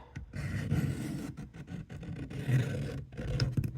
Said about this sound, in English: Sharpener's just moving all over here.